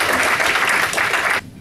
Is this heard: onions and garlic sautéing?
no